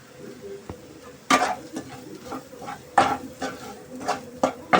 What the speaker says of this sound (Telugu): కొంచెం పచ్చివాసన పోయేంత వరకు వేపుకోండి.